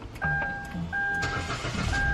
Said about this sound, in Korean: 시동이 걸리고요